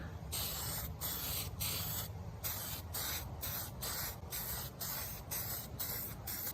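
Spray paint in white hisses onto a Traxxas X-Maxx RC car body in a series of short, close bursts separated by brief gaps, a rhythmic sequence of about a dozen sprays.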